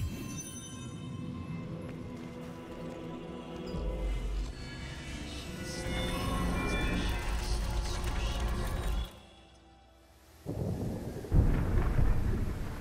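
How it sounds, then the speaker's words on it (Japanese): A stormy night in the Throne and Liberty game cutscene, with rumbling thunder and rain over a musical score. The storm builds, drops into a brief near-silence, then returns with a sharp, loud thunderclap. "嵐の吹き荒れる夜"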